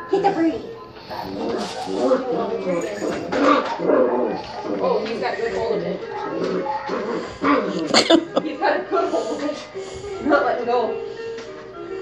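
Six-week-old puppies barking, yipping and whimpering close by in quick, overlapping bursts, mixed with a person talking throughout.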